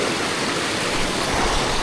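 A fast-running stream rushes past at close range, a loud, steady wash of water with no pauses and no voices.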